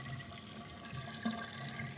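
Water from a backyard concrete pond's filter pump flows in a soft, steady trickle, faint and continuous with slight splashing, and no voices.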